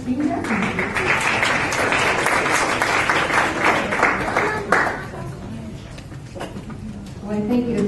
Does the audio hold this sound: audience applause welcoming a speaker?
yes